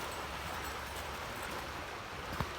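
Fountain Creek, a stream beside an old mill, flows with a continuous, even rush of water. The broad, steady hiss runs alone throughout, with one small knock near the end.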